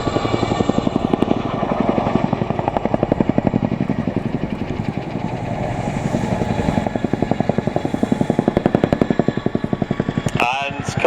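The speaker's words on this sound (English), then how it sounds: "they will pull power and left pedal, taking the Chinook skywards into the Gorney corkscrew, rotating and climbing to 800 feet." Boeing CH-47 Chinook tandem-rotor helicopter pulling power into a climbing corkscrew at an air display, its rapid steady rotor chop loud and continuous throughout, with a brief sharper burst near the end.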